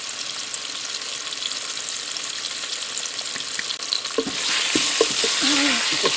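Floured bison steak pieces sizzling in a hot Cosori multi cooker pot, a continuous close sizzle that swells louder near the end, with a few faint knocks and scrapes.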